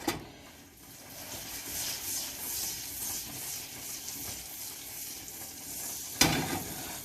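Butter sizzling in a hot pan gives a steady close hiss and crackle that fills the whole stretch, ending with a sharp knock of utensil on pan near the end.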